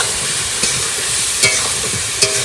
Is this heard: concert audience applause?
no